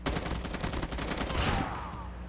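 Rapid automatic gunfire in the mobile shooter game Call of Duty Mobile, a loud continuous burst of closely spaced shots that fades into a brief tail near the end.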